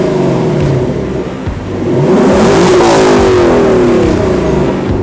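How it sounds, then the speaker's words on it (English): Lexus LC500 with a 5-liter V8 revving hard, a loud close induction roar that climbs steadily through the rev range and holds a high pitch, with no voices. "Makes incredible induction noises as you head up the rev band."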